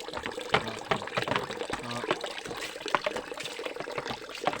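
Water from a 12V pump splashes and trickles into a full well, a close, steady liquid patter with no voices.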